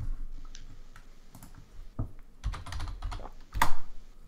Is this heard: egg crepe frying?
no